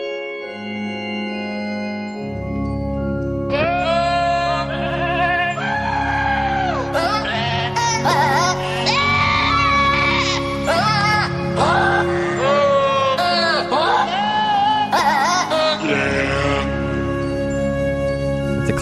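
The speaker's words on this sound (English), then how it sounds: "And now goats that scream like people." Goats bleat and scream in loud, human-like wails, several overlapping calls in ragged bursts that carry on for most of the stretch after a quieter opening.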